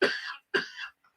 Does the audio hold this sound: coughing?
yes